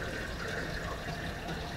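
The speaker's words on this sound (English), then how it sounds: "Fill this up with cold water." Cold water runs from a tap into a container in a home kitchen while brewing light mead, a steady close rush and splash lasting throughout without pause.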